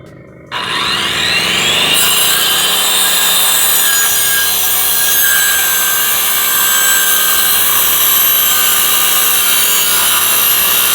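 A power saw rips through a scrap piece of wood: a sharp start, then a loud, sustained whining cut that holds steady and close for about ten seconds with no talk.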